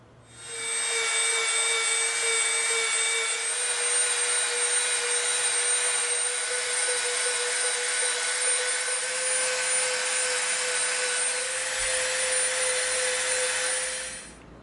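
A power sander whines steadily as it softens the edge of an EVA foam handle, a loud, sustained tonal drone that starts abruptly and runs for about thirteen seconds before spinning down.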